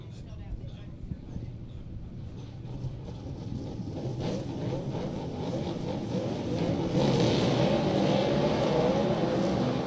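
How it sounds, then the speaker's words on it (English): V8 stock cars at Meeanee Speedway roaring into turn one, a dense engine rumble that swells and grows louder toward the end, with a commentator's voice running over it. "The roar of the V8s as they charge up into turn number 1."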